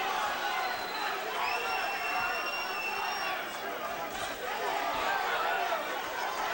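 A boxing arena crowd during a Michael Moorer fight, a broad murmuring roar of chatter and reaction swelling faintly, distant and continuous, with a whistle-like tone rising briefly through it.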